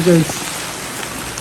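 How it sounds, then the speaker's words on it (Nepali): Rain falls steadily in a constant pattering hiss outdoors on a road trip near Pokhara, with a brief spoken word at the start, then only rain. "गाइस पानी पर्न सुरु भइसक्यो"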